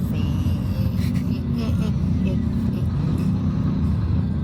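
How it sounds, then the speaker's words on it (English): Steady low rumble of road traffic in Manila, Philippines, with car and bus engines droning continuously at close range and no clear individual horn or pass-by standing out. "It's always traffic. Traffic in Manila."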